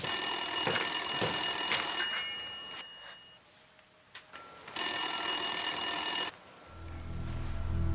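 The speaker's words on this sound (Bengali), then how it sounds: "একটা ফোন আসে, কেউ কিছু বলছে, তুমি ধরো তো ফোনটা" A telephone ringing indoors in a home, two loud sustained bursts of bright electronic ringing separated by a quiet pause of about two seconds.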